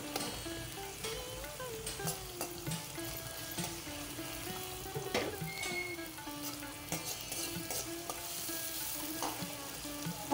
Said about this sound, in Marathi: हे बारीक चिरून घातलेला कांदा मी आता फोडणीला देत आहे.